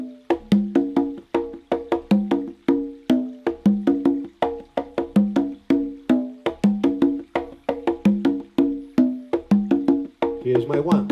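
Three conga drums play a New York-style Mozambique rhythm, a steady, dense pattern of open and slap tones with double open strokes. The hits are close and loud and repeat in a driving cycle, with no talking over them.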